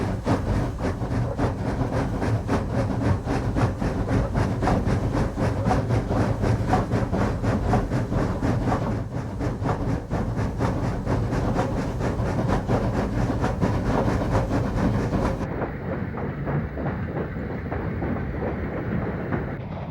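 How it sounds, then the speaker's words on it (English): Train led by Engine 903 running out of Spokane, Washington, a continuous loud rumble of rolling freight cars with steady rhythmic clicking of wheels over rail joints, the upper hiss dropping away near the end. "Engine 903 leaves Spokane and leads her train to Hilliard"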